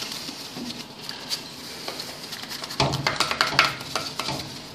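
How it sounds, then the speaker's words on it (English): A small paintbrush scrubs thick oil on an engine block in fast, irregular wet swishing bursts that grow louder and denser halfway through, close by with no talking. "we'll just take a little paintbrush and just kind of hit where that thick oil is"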